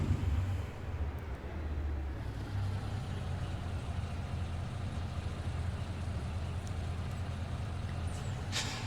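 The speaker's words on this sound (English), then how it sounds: "See if I can still drive a truck and back them up." Truck idling and slowly backing up in American Truck Simulator, a steady low engine drone with faint clicks and a brief air hiss near the end.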